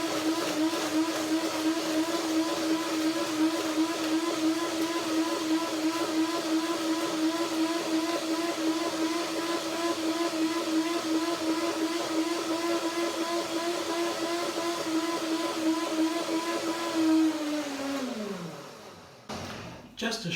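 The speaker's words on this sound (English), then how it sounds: "Just a short first blending, a short blender dance to make it ready to soak." A blender whirs steadily and loudly for about seventeen seconds, blending a cashew and cilantro dressing with soaking nuts. The motor's pitch then drops sharply as it spins down and stops.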